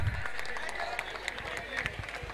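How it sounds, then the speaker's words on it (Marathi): Applause from a crowd at a cricket tournament prize ceremony, welcoming the best fielder; steady clapping runs throughout at moderate distance, with a voice faintly underneath. "मित्रांनो, जोरदार टाळ्या."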